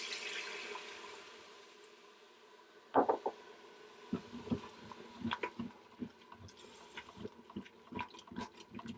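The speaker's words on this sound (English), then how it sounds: "I'm going to add in my wine." Wine is poured into a hot pan of flour and chicken, producing a sudden splash and then sputtering, crackling sizzles that continue quietly to the end.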